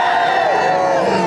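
A dense crowd at an outdoor march for health and science roars and cheers loudly, a continuous wall of many voices with rising shouts over the whole short moment.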